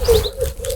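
A brief electronic bird sound from the Boarderlands sound app: a soft cooing tone with a few high chirps above it, close and clear, lasting under a second.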